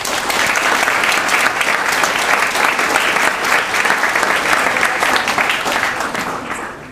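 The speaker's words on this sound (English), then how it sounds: "Please give these girls a round of applause." At a high school spring sports banquet, the crowd gives JV softball players a loud, sustained round of applause. The dense clapping holds steady and then tapers off at the end.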